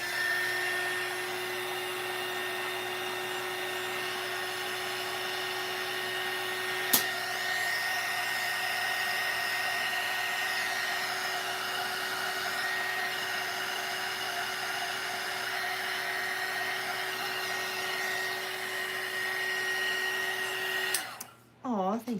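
A small dryer runs steadily to dry paint on a painted gingerbread cookie, a continuous whirring whine holding for about twenty seconds under quiet background talk before cutting off.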